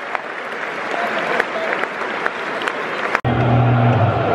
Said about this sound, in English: Huge applause for Wes Ulan.